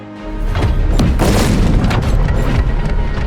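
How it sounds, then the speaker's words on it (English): A grenade detonates in a Warhammer 40K Secret Level animated battle scene, a loud, sustained booming blast with rumbling low end that rolls on for several seconds without speech. "After dealing with an enemy, he immediately threw a grenade."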